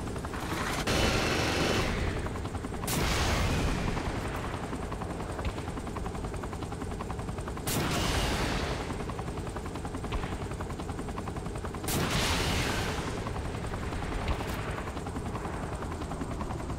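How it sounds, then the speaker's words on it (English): Saints Row 3 video game: a helicopter's steady rotor roar runs throughout, broken by several sharp bursts of machine-gun fire every few seconds. "Now we go up in a helicopter."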